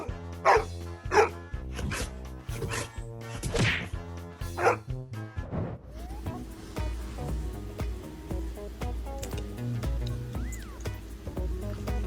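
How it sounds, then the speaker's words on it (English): A pet dog barks insistently in the morning to rouse its sleeping owner, with a run of sharp, close barks in quick succession, followed by quieter indoor rustling and thumps. "His dog wakes him up like this almost every morning."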